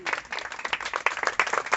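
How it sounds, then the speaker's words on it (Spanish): A church congregation applauds in a steady, dense wash of many hands clapping, loud and sustained across the whole moment with no talking over it. "Fíjense que le voy a dar un aplauso al Señor por esto."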